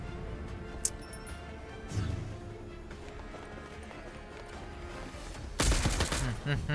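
Gunfire in the Girls' Frontline 2 video game: quiet game ambience with scattered clicks, then a loud, sudden burst of shots near the end.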